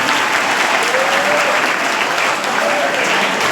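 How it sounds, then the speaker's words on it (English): An audience at a student seminar applauds steadily, a dense, even wash of clapping from many hands that holds for several seconds without a break. "Stop clapping."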